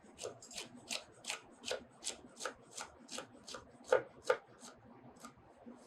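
A knife chops a bell pepper on a cutting board with a bear claw grip, giving a steady run of about fifteen quick, evenly spaced cuts, close and fairly quiet, with two sharper strikes near the end.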